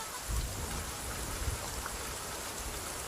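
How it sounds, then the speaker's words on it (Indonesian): Rain falling at sea, a steady broadband hiss of drops spread evenly, moderately faint and continuous with a couple of soft low thumps near the start. "tiba-tiba saja hujan turun"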